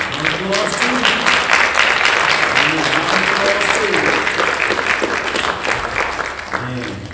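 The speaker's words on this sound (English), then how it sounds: "Give them a round of applause too." A crowd applauds grandmothers standing in the audience at a talk on healing, with sustained, dense clapping and some cheering voices mixed in throughout.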